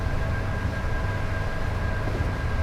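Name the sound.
Class 45 locomotive noise, Just Trains video game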